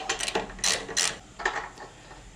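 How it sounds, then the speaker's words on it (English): A half-inch ratchet loosens motorcycle axle bolts, giving several quick close clicking bursts of the pawl, with two louder sweeps in the middle and softer clicks after. "take the half inch and just go ahead and bust them loose"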